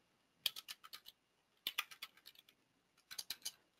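Quiet computer keyboard typing while entering group names into SharePoint security settings: three short bursts of rapid, crisp key clicks separated by brief pauses.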